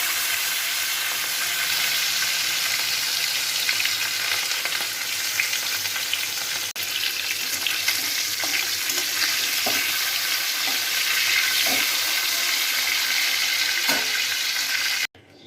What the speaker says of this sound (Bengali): মাছগুলোকে আমি ভেজে নিচ্ছি।